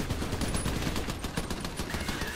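Dense, continuous gunfire from a shotgun in the co-op video game Trenched, loud and steady with rapid overlapping shots and no clear gaps between them.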